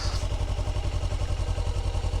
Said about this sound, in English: Engine bogs down.